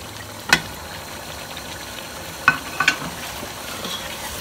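Tomatoes cook in a frying pan for a beef yakhni pulao, a low sizzle running throughout while a spoon scrapes and knocks against the pan in a few sharp, separate strokes; no one speaks.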